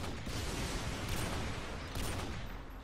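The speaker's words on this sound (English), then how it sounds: "I'm just shooting like what I think is enemies." Quiet bursts of rapid gunfire from Call of Duty Modern Warfare 2, in a free-for-all match on the Favela map, with a dense, continuous crackle of shots and no voices.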